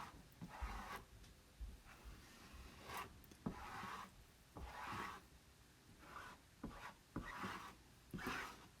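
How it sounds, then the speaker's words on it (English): Excess chalk paste scraped off a stencil, a series of short, soft rasping strokes repeating roughly every second, close and fairly quiet, with no talking. "Now I'm just scraping off the excess."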